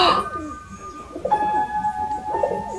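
A recording of a pet pigeon cooing plays back, with soft repeated throaty coos and a few sustained tonal notes, fairly close, partly under light background noise.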